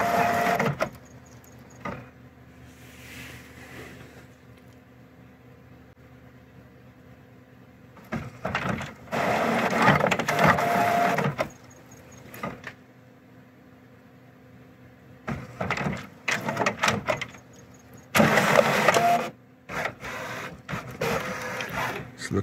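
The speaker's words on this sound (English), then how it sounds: "So printer's calibrating." An HP OfficeJet Pro 8610 inkjet printer calibrating, with repeated bursts of whirring carriage and feed motor noise separated by quiet pauses and faint clicks, sitting in a box.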